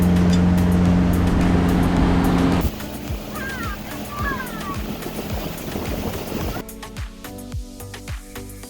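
Outboard motor on a Sportsman Open 212 boat running on the water during break-in, a loud steady drone at first that then drops to a quieter engine hum with water splashing and wind.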